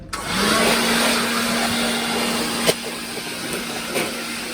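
Compressed air blown through the cooling fans of a three-year-old MPPSolar 48V PIP inverter, a loud steady hiss with a whirring fan tone, close up and unbroken, with a couple of brief knocks and no talk.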